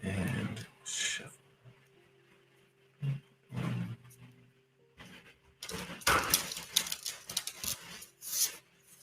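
Tarot cards are shuffled with several bursts of riffling and flicking, including a longer dense run of rapid card slaps near the end, separated by quieter pauses.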